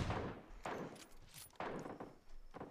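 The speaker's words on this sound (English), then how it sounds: "And I'm getting shot at." Gunfire in an arcade-style shooter video game: several sharp, fairly quiet bursts of shots in quick succession, spaced about a second apart with short gaps between them.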